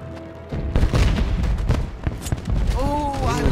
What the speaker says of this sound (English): Oh, I love the Fiona fireworks!